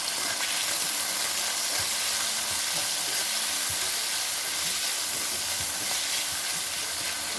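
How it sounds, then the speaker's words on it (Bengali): Sweet potato pieces frying in a pan over a raised gas flame, a continuous dense sizzle and hiss with light stirring scrapes, loud and unbroken throughout. "একটু মিষ্টি আলুটা আমি ভেজে নেব।"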